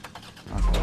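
In OVERKILL's The Walking Dead, a car engine cranks and catches near the end, a low rumbling start rising quickly and loudly after a short quieter stretch.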